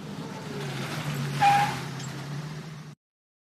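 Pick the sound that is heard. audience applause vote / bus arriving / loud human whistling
bus arriving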